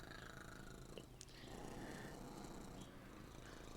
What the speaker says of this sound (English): I'm guessing you can hear the cat purr now.